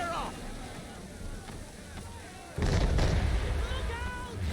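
Ship cannons firing in the Assassin's Creed III game, a sudden deep booming blast that swells into a sustained rumble at sea after a stretch of wind and water, with voices shouting over the noise.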